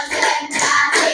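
A classroom group clapping hands together in counted rhythmic bursts, three loud rounds of claps close by.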